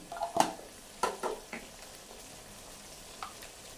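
Curry paste with turmeric fries quietly in a pan for a potato and egg curry, as a spoon scrapes and clinks against the metal in a few sharp strokes over a faint, soft sizzle.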